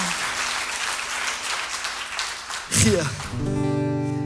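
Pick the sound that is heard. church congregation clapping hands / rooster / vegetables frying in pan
church congregation clapping hands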